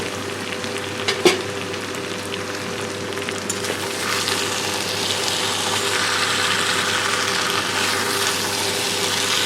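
Vegetables for a fish-head and Malabar spinach chorchori cooking in oil under a lid, giving a steady, continuous sizzle with a few faint clicks and taps near the start.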